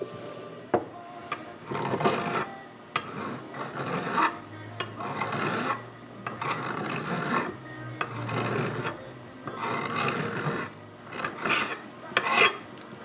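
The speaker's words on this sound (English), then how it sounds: "I'm going to file this off, and well, hopefully we can get that out of there without damaging anything." A hand file rasps back and forth on a metal pin in a 1955 Buick distributor gear, steady rhythmic strokes up close, fairly quiet, with no voices.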